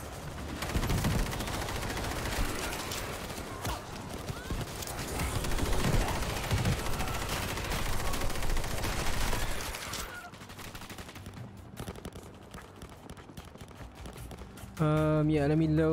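A mounted turret in the video game World War Z fires rapid sustained bursts, loud and dense for about ten seconds, then drops to quieter scattered combat noise with a brief loud tone at the end.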